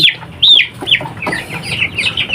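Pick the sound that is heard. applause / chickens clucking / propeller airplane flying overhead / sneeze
chickens clucking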